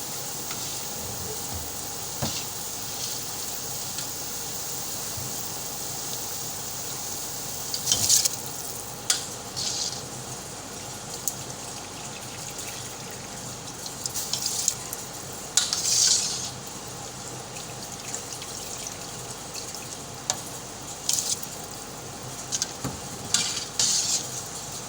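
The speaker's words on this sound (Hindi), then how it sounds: "इसमें चावल डालते हैं अभी" Rice tipped into a pot of boiling water and stirred, giving soft scraping and occasional metallic clinks of a spoon against the pot over a steady bubbling hiss, with no talking.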